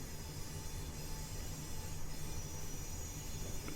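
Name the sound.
Class 319 train running in Train Simulator Classic video game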